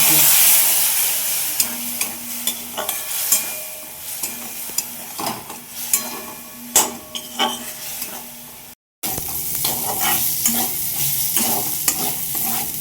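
Chicken pieces fry with ground spices, salt and a little water in a pan, sizzling steadily while a utensil scrapes and stirs in repeated strokes, broken by one short pause.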